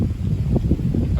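Strong March wind gusting during a spring shower, a loud continuous low roar buffeting the microphone with no voices.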